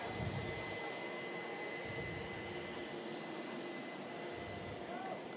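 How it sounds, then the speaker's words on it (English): A Juneyao Air airliner moves at Manchester Airport, producing a steady distant jet-engine roar and whine that stays even throughout, heard faintly at a low level. "Oh, another beautiful aircraft."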